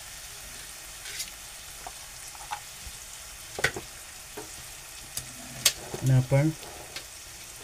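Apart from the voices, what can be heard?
onion and tomato being sautéed with turmeric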